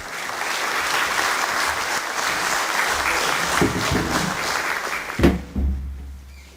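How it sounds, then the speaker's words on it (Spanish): Sustained audience applause welcoming a speaker to a building-safety talk for architects, a dense even wash of clapping that cuts off abruptly near the end, followed by a few low thumps. "damos inicio a la charla con un aplauso, por favor, para nuestro expositor"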